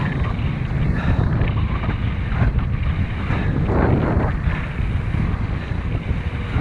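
Steady strong wind buffeting the microphone over open water while wing foiling, a constant roaring rush with faint wave wash beneath, no voices.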